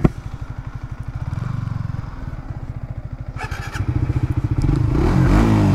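A Yamaha R15 v3 and a Suzuki GSX-R lined up for a drag race, engines idling with a rapid pulsing thrum, then revving up louder toward the end.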